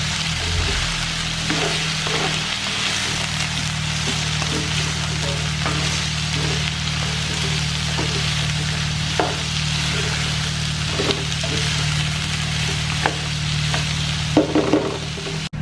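Kamias being stir-fried in a pan, a steady loud sizzle with a low hum underneath and repeated scraping and clinking of a utensil stirring throughout.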